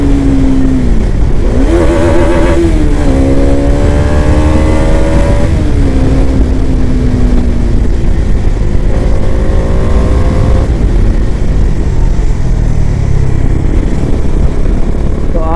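A motorcycle speeds up on a curvy hill road between Kotdwar and Gumkhal, its engine note climbing through several rising gear pulls, loud and close over steady wind rush.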